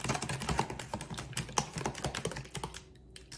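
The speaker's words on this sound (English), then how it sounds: "So then you're just going to whisk it." Eggs being whisked in a bowl to break up the yolks, a quick, busy run of light clicking and tapping strokes close by with no talking, easing off near the end.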